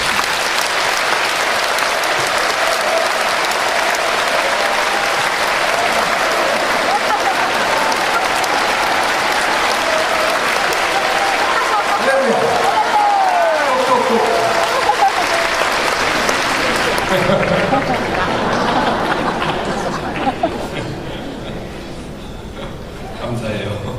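A church congregation gives loud, sustained applause to welcome a pastor at a revival meeting, a dense crowd clapping that runs steadily before easing off toward the end.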